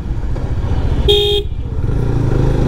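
Twin horn fitted to a GPX Demon 250cc motorcycle gives one short, loud, steady honk of about a third of a second, close by, over a constant low road and engine rumble.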